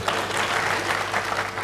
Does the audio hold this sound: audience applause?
yes